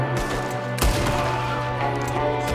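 Gunshots in Red Dead Redemption 2, with a sharp, loud shot near the one-second mark standing out over a sustained droning game background.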